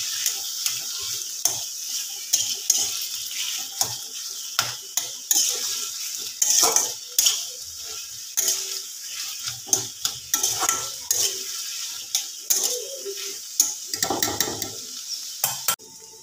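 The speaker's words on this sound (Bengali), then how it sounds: "এই আলুগুলো এবার এর মধ্যে দিয়ে ভালো করে আমি ম্যাশ করে নেব।" Potatoes are mashed in a pan with lightly fried onion, the masher or spoon knocking and scraping the metal in repeated close taps over a soft sizzle.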